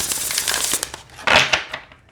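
Glossy semi-gloss oracle cards from a Witches' Familiars deck are bent and flexed in the hand, giving close crisp crinkling and papery rustle with a brief louder snap as they spring back flat.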